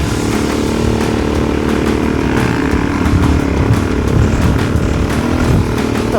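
A Suzuki DRZ400 dirt bike with a 28-litre tank, ridden on a beach trail, its single-cylinder engine droning loud and steady at close range throughout.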